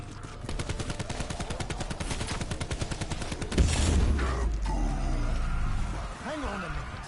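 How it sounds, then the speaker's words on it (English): A cataclysmic explosion in a video game arrives midway as a deep, heavy boom after a run of rapid, crackling bursts like gunfire, with voices talking over the action. "How on earth did that cataclysmic explosion suddenly manifest out of nowhere?"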